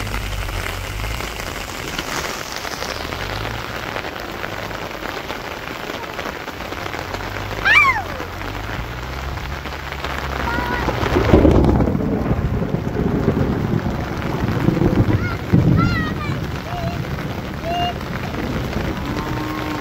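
Steady rain falls on a village farm, a continuous hiss of drops on surfaces swelling louder midway, with a distant low rumble and brief faint chirps over the downpour.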